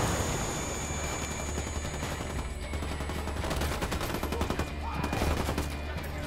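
Ghost Recon Wildlands gunfire during a prison break-in, as sustained automatic weapons fire with overlapping bursts rattling continuously at moderate distance, with faint voices in the mix.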